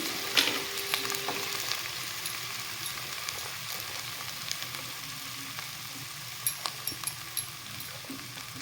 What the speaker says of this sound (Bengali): পেঁয়াজ কুচি দিয়ে দিব সাথে বিনস বিনসটা যেহেতু একটু শক্ত থাকে তো বিনসটাকে আমি একসাথেই দিয়ে দিলাম